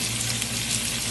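Red beans and rice cooking in a pot on the stove give off a steady, even simmering hiss with a low bubbling rumble underneath, constant and close for about a second with no voices.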